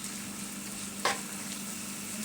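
Chicken frying in a pan with a steady, hissing sizzle, a brief louder crackle partway through, close and continuous.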